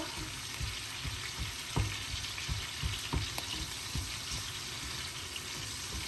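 Onions fry in a tadka, a spiced tempering, with a steady close sizzle and scattered soft pops and stirring knocks throughout, no talk over it.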